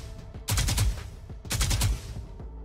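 A video game gun wearing the Sentinels of Light skin fires two rapid bursts separated by a short pause, each a close, punchy rattle of sharp shots.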